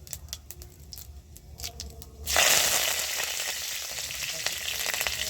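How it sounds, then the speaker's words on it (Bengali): Curry leaves and five-spice seeds hit hot oil for a vegetarian papaya-potato curry, bursting into a loud, sudden sizzle after a quieter stretch of faint crackling, then frying steadily, with no voices. "তেলটা গরম হয়েছে, তেলের মধ্যে আমি একটু 5 ফোড়ন দিয়ে দিচ্ছি"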